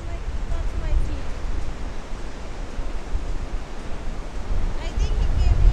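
Ocean surf washing up on a sandy beach at Ocean Shores, a continuous broad rushing wash that swells louder toward the end, mixed with wind buffeting the microphone.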